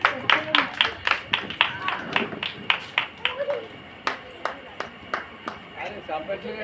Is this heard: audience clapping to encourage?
yes